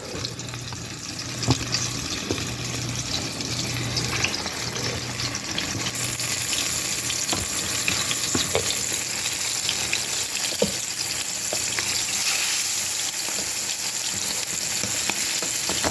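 Chicken wings deep frying in a pot of hot oil at home, a continuous loud bubbling sizzle with scattered crackles and pops that runs steadily throughout, with a low hum in the background.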